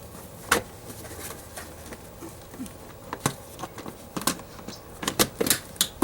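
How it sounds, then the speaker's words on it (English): Sharp plastic clicks and snaps come from a trim panel being pressed into place inside a 2001-2006 Hyundai Santa Fe, several irregular close-up snaps over light handling rustle, with no talking. "you snap your trim panel back into place"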